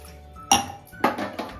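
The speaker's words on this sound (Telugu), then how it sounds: "స్టీమ్ పట్టడానికి ఒక ప్యాన్ పెడుతున్నానండి" A metal pan is set on a kitchen stove for steaming, giving a sharp metallic clank followed by two lighter clinks and brief rattles, close and otherwise quiet.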